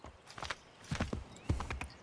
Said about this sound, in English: Call the horse. And there he is, the assassin horse.